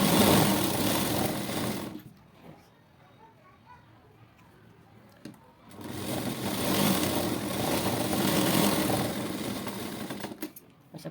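A sewing machine stitches a blouse seam in fast, continuous bursts of whirring needle chatter, pausing for a few seconds in the middle, with a voice speaking during the pause.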